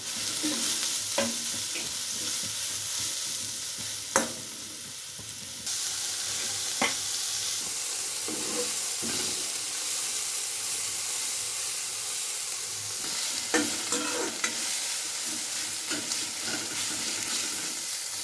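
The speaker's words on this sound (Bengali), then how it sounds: "সয়াবিন কিছুটা ভেজে নেব, সামান্য একটু নুন দিয়ে ভেজে নেব। নুন হলুদ দিয়ে ভেজে নেব।" Soybean chunks fry in a pan with salt and turmeric, a continuous close sizzle broken by occasional scraping knocks of a spatula as they are stirred.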